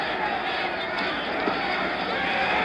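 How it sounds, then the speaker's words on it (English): A roaring stadium crowd at a Dallas Cowboys versus Minnesota Vikings NFL game, a dense, steady wash of cheering and shouting that holds level throughout without letup. "Boy, this crowd is really up now."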